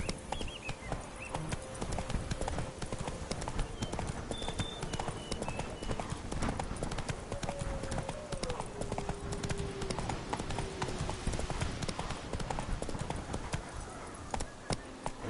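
Steady clip-clop of a horse's hooves galloping in The Witcher 3: Blood and Wine, continuous and fairly close, with game music and faint effects beneath.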